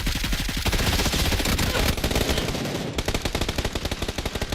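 Dense, loud automatic gunfire in the video game Splitgate 2, continuous rapid bursts filling the whole stretch with only a brief shift in the middle.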